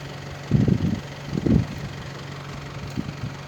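A truck sits idling outdoors on a farm, giving a low, steady engine hum throughout. A few louder rumbling bursts rise over it, with faint wind noise in the background.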